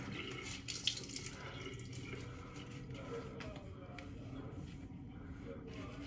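Water from a tap runs steadily into a sink while soap is rinsed off a face. The flow is faint and continuous, with a low voice murmuring under it.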